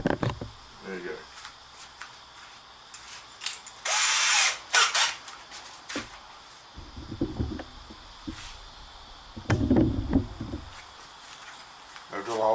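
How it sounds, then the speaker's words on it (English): A power drill bores a hole during a kayak steering fitting job, near the steering wires. One loud whining burst comes up close, with clanks and tool handling noises around it. "I'll drill a hole through there first,"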